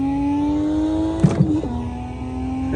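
A GTR's engine revs loudly at Bathurst in a racing simulator, a steady, close tonal drone with a brief clattering shift in the middle before it settles back into a sustained note.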